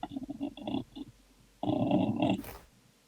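A person's voice imitates a low, snuffly creature growl, somewhere between an alligator and a pug, during a tabletop fantasy role-playing session. It comes as a series of short grunting snorts, then a longer, louder rumbling growl, close and alone.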